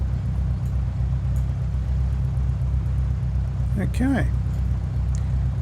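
Engine of a Scottish Aviation Bulldog in Microsoft Flight Simulator 2020, heard with the canopy closed: a steady, muffled low drone throughout, with someone speaking briefly over it.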